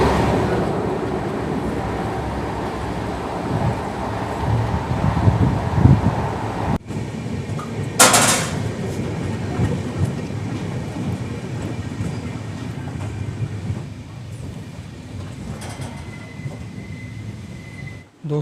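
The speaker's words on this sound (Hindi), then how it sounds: "इस वक्त हमारी ट्रेन को धीरे करके रोक दिया गया है" Shri Ganganagar–Kochuveli Express passenger train slowing to a halt, a steady low rumble of wheels and carriage with a brief sharp clank midway, fading quieter toward the end.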